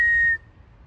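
A sharp, steady whistle rings out loud and clear at a dog field to call a dog, lasting about a third of a second before cutting off into faint outdoor background noise.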